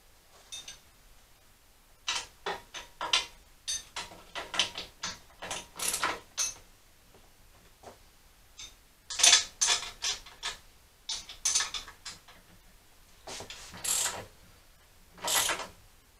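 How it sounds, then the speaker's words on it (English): A ratchet wrench torquing frame bolts on a Honda CBR400 track bike, with quick bursts of clicking pawl strokes in irregular clusters, close and fairly loud, separated by short pauses. "I'm going to have to torque up the bolt rather than the nut"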